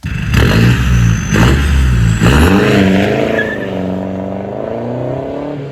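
A Mercedes 2.0 CDI diesel car engine on a dyno with a new exhaust, before tuning, revs hard and loud, climbing in pitch, then drops back and settles into a lower, steady drone.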